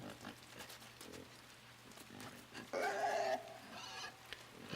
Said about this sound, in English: oh jeez, pig coming after me.